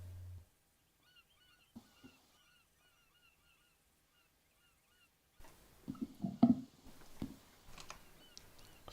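Seagulls call faintly in the distance with short repeated cries in the video game Arma 3 during close-quarters combat training, followed by nearby shuffling and handling noises.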